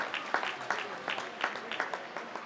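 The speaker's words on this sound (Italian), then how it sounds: "Applausi dagli spalti." Spectators in the stands at an Italian Serie A2 roller hockey match applaud in a brief, fairly faint spatter of clapping, irregular and distant.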